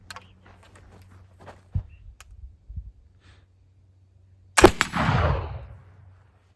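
Homemade black powder made with Quilted Northern toilet paper is ignited in a test shot, giving one sharp loud bang followed by a roaring whoosh of burning that fades over about a second, after some quiet background handling noise.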